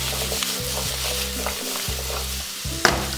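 Zucchini sautéing in a pan for a zucchini carbonara, a steady close sizzle with a few brief stirring scrapes and one sharp clink near the end, no talking.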